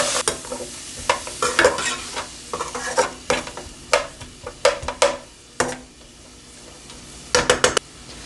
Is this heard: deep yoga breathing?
no